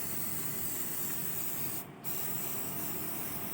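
Oil sprayed onto the sponge air filter of a Sport Rider 125i motorcycle gives a steady, close aerosol hiss that runs without letup, broken only by one short pause near the middle.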